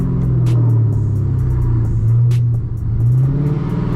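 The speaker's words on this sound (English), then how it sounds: "Once this car warms up, it's freaking burbling like a BMW." A Dodge Challenger Hellcat Redeye V8, warmed up, burbles loudly and close from inside the car, its deep engine note swelling and easing through gentle throttle changes, with a few sharp crackles over the low rumble.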